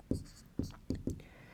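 Writing on a board during a Class 10 maths lesson on probability: four sharp, fairly loud taps and strokes in quick succession, close by, with no voices.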